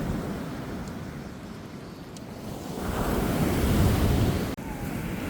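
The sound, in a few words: ocean waves breaking on a sunny beach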